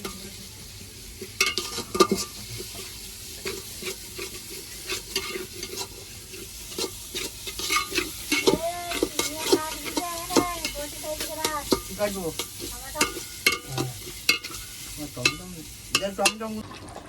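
Marinated meat sautéing in a pan gives a steady, close sizzle under repeated scraping and clattering stirs that grow busier midway, with no talking.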